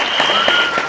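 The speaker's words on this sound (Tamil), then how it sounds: "கைத்தட்டல் தானே கொடுக்க முடியும். கொடுத்துருவோம்." Audience applause at a business training session in Madurai, a steady dense clapping that fills the whole moment without speech over it.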